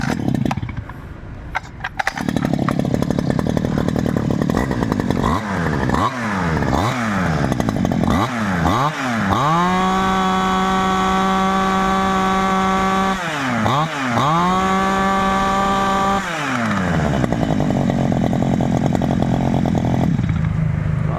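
A small Japanese Robin gasoline engine from farm equipment runs loud and close, revving up and down repeatedly with a raspy, buzzing tone, then holding steady at high speed.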